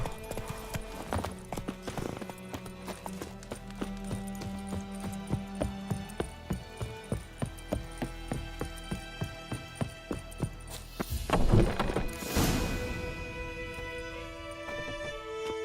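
Roach, the horse in The Witcher 3, gallops in a quick, even run of loud hoof thuds, then a burst of louder clatter and rustling near the end.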